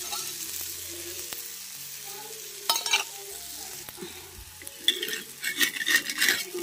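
Dhirde batter fries in oil on a pan over a wood-fired stove, a soft steady sizzle with intermittent scraping and clinks of a utensil against the pan, close and moderately loud.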